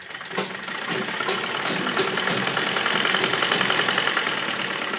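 Sewing machine stitching a seam on a side-dori Naira frock bodice, running continuously at a steady mechanical whir after a brief start, close and even throughout, no speech.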